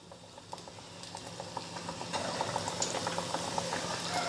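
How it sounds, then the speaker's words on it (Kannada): Potato sev dough pressed into hot oil fries with a dense, bubbling sizzle that swells louder midway and stays steady, close and alone without talk. "ಈಗ ಎಣ್ಣೆ ಬಿಸಿ ಆಗೈತೆ ರೀ. ನಾ ಹಿಟ್ಟು ಕಲಸಿ ಇಟ್ಕೊಂಡಿದ್ನಲ್ಲ ರೀ, ಇವು ಬಿಡ್ತೀನಿ ನೋಡ್ರಿ"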